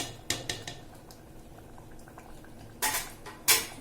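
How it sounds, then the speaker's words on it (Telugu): A tomato and onion curry bubbling in a pan, with a soft steady simmer broken by a few sharp clinks of a utensil against the pan, near and fairly quiet, no talking. "చూసారా ఎలా ఉడుకుతుంది అది."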